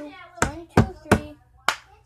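Four sharp hand claps and cup taps from the cup song, close and crisp. The first three come in quick succession and the fourth follows after a short pause, with quiet gaps between.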